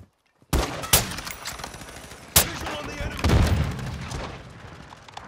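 Gunfire in Call of Duty: Modern Warfare 2, with sharp loud shots and bursts of automatic fire booming over a rumbling battlefield bed, while players talk now and then.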